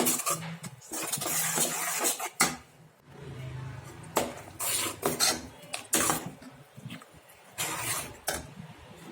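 Tomato puree being stirred into paneer masala gravy in a pan: repeated clanking scrapes of a utensil against metal in uneven bursts, with quieter sizzling gaps between strokes.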